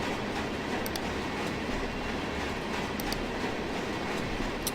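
Trains rolling in the Run8 train simulator game, a continuous dense rumble of rail cars with faint rhythmic clicks and occasional high wheel squeals over the top.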